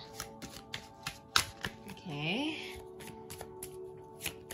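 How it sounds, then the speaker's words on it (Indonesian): A deck of tarot cards is shuffled by hand with steady soft riffling and flicking taps throughout, and a brief voice rises in the middle. "Let me shuffle first."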